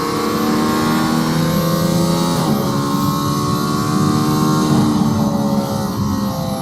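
A Mercedes-AMG ONE hypercar accelerates hard on a race track with DRS open, its engine a loud, continuous high-revving roar with rising harmonics and brief dips at gear shifts, heard close from inside the car.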